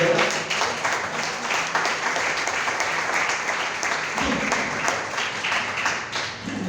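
A church congregation at a Saturday worship service applauds together to welcome a new member into the church family, steady dense clapping filling the room and holding evenly throughout with no talk over it.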